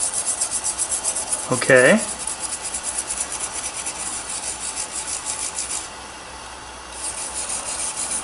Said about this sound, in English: This is a stainless steel brush.